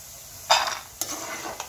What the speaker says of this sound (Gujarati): ફ્રેન્ડ્સ, આપણા બી એકદમ તળાઈને રેડી છે